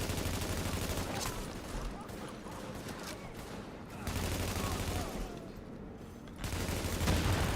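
Gunfire in The Division, a shooter set in New York, crackles in sustained bursts with strong recoil, running almost continuously through the clip under occasional voices.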